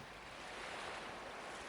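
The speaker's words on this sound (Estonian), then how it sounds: "Meri." Sea waves wash onto a sandy beach on the Lääne-Viru coast of Estonia in May, a soft, steady broadband surf rush heard faintly from a distance, with no voices.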